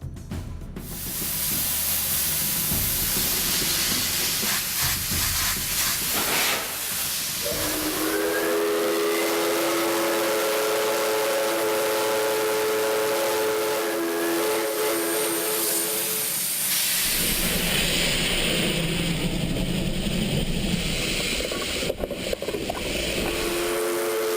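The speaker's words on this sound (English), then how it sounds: "The steam locomotive will lead this final part of the train adventure to the last station of Duran." An Ecuadorian railway steam locomotive hisses with loud, sustained steam that roars and wavers, with a tonal whistle-like stretch in the middle and a renewed burst of hiss toward the end, no voices.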